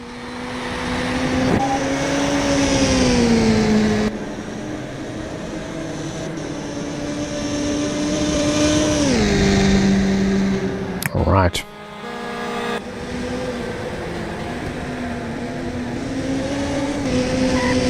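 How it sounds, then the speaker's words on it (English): Race car engine in the Dreamcast game Test Drive: Le Mans, a loud steady whine rising and falling with gear shifts throughout, with a brief burst of noise midway and someone talking over it. "The engine sounds good"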